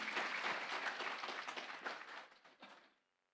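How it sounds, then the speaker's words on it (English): A crowd of ladies and gentlemen at an agricultural projects workshop in India claps in sustained applause for a guest from Himachal Pradesh, fairly distant, fading out to silence near the end. "Can we have a big round of applause"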